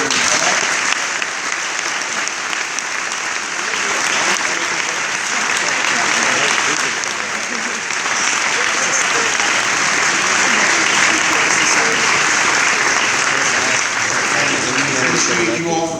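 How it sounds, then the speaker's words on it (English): A university lecture audience gives John Stossel sustained applause, loud and continuous clapping from a full room lasting throughout, with a few voices and cheers mixed in. "Let's give Mr. Stossel another round of applause"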